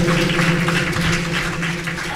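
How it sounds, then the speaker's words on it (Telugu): A church congregation clapping loudly during a Sunday service, a dense, continuous wash of hands close by for about two seconds with faint voices underneath. "చప్పట్లు కొడతాం గట్టిగా"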